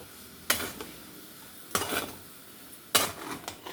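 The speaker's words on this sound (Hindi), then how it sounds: "धीरे करके भूनते रहना है" Vegetables with sauce stir-fried in a pan, three separate bursts of spatula scraping and sizzling spaced about a second apart, with quieter frying noise between them and no talk.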